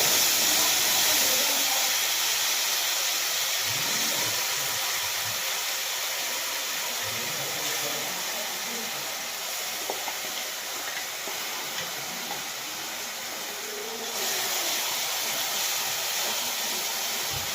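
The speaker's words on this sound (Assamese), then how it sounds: "সেই পেষ্টখিনি মই কেৰাহীত দি সেইখিনি মই ভালদৰে ভাজি ল'ম" An onion, tomato, ginger and garlic paste fries in mustard oil in a kadai, giving a continuous broad hiss and sizzle with a few faint clinks underneath and no talking.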